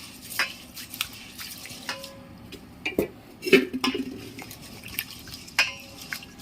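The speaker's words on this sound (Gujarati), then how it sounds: "હવે આપણે આ ચોખા ધોઈ નાખશું।" Rice is washed by hand in water in a pot in a home kitchen, giving irregular swishing, splashing and light clinks of the vessel in short bursts, close up, with no talk.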